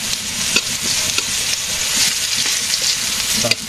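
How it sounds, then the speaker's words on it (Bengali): Pointed gourd (potol) frying in a pan gives a steady sizzle with occasional stirring scrapes, close and loud throughout the short stretch. "আগে পটল ভেজে নিতেছি"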